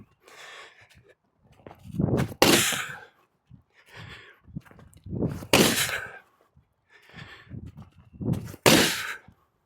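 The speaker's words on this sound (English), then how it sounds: "So here I'm going to do an ice skater med ball toss." Medicine ball tosses during an ice skater exercise: three loud thumping impacts roughly three seconds apart, each preceded by quieter shuffling steps and effort, with no talk.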